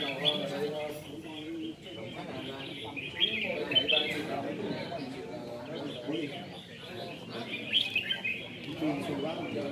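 Red-whiskered bulbuls sing in a songbird contest, with several birds chirping and warbling in overlapping bursts against steady background crowd chatter.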